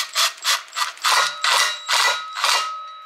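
A power tool drives a screw into a Can-Am X3 clutch in a series of about seven short, sharp whirring bursts with brief gaps between, loud and close with no talk.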